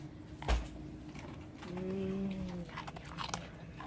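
Wolfdog crunching a bacon and cheese treat: one sharp bite up front, then soft chewing under a brief cooing or whining tone in the middle, all fairly close and quiet.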